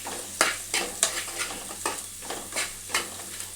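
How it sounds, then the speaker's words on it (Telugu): Carrot and onion chutney frying in a pan while being stirred, with a steady low sizzle broken by repeated scraping strokes of a spoon at a regular pace, close by and without talk. "ఇప్పుడు ఇంకొక 2 మినిట్స్ ఫ్రై చేయాలి."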